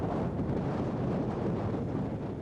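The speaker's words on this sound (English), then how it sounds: "but a fierce wind starts blowing." A fierce wind roars steadily over the microphone on the Black Sea coast, a dense, unbroken rush with no voices.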